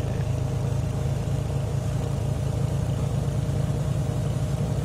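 Simulated aircraft engine held at about 1,500 RPM, a steady, loud low droning rumble with a constant pulsing drone and no pauses.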